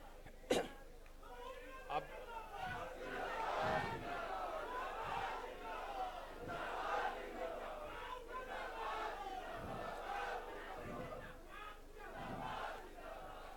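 A large gathering welcomes a politician at a constitution assembly in Ranchi, with sustained distant cheering and crowd roar, a few sharp claps, and a voice speaking over it.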